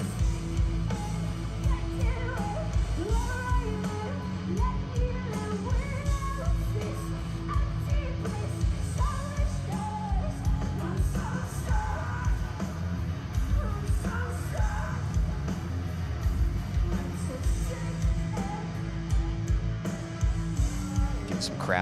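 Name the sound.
concert crowd singing along at metalcore show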